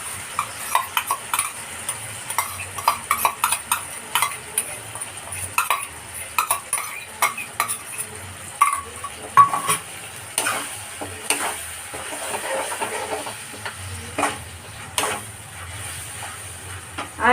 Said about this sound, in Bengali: এবার আমি এর মধ্যে যে সসটা মিক্সড করে রেখেছিলাম সেই সসটা দেব।